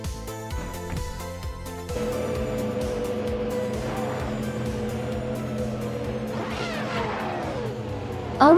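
Race cars in a video game surge off the line together at Circuit Paul Magnat, engines droning and revving steadily throughout, with a rising whine of a car passing close near the end.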